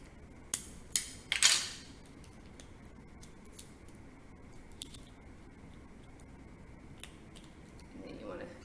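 Scissors snip a small slit in a paper rocket nose cone, two or three sharp close cuts in quick succession, then quiet handling, with a voice talking briefly.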